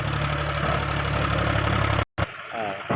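A diesel tractor engine idles with a steady knocking chug, briefly cut off before resuming, while the tractor levels soil around a crematorium at a Thai temple.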